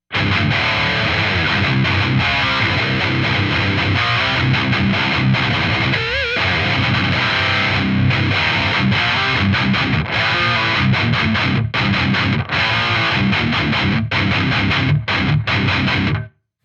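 A heavily distorted electric guitar played through a Joyo Uzi distortion pedal plays loud, thick chords and riffs continuously, with a saturated, gritty tone and brief pauses near the end.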